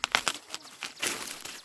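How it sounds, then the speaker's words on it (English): Birds call in a mountain forest, a few sharp chirps near the start followed by softer repeated calls, one resembling a dove's coo, fairly close and with no voices. "the cheerful songs of birds echoed throughout the mountains and forests"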